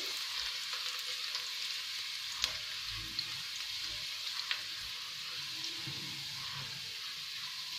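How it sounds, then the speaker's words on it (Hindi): Chopped garlic sautés in oil in a pan, giving a constant soft sizzle with a few faint clicks of stirring, heard alone at low level. "और इसके अंदर शामिल कर देंगे चॉप्ड गार्लिक। हल्का सा सौटे करेंगे"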